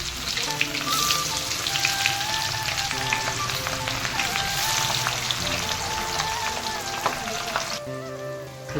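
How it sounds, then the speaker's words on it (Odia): Onions for biryani, 500 grams of them, fry in hot oil in a pan with a dense, steady sizzle and crackle. It sounds close and continuous and drops in level near the end, with no speech. "ପିଆଜ ଫ୍ରାଏ ହେବା ଭିତରେ"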